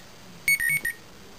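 Calendar alert tone on a fourth-generation iPod Touch: a brief, clear chime of about four quick electronic notes lasting under half a second, alone over faint background hiss.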